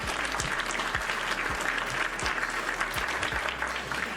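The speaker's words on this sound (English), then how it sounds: "Round of applause for Dionysius." An audience gives sustained applause for Dionysius, a thick, even clatter of many hands clapping for about four seconds, with a few dull thumps underneath.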